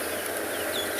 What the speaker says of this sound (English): we can just sit and enjoy the sounds of the birds this morning